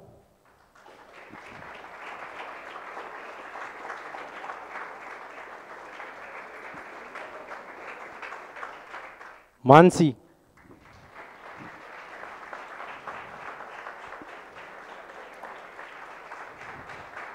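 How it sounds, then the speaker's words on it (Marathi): An audience claps steadily for prize winners at a project competition award ceremony, a sustained wash of applause broken midway by a short loud burst where a name is called out over it. "जोरदार टाळ्या वाजत राहिल्या पाहिजे."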